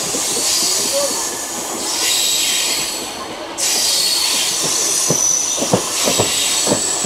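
A local train on the Digha–Howrah line rolls steadily along its rails with a constant rumbling hiss, joined in the second half by several sharp wheel squeals and clanks; a brief voice is heard.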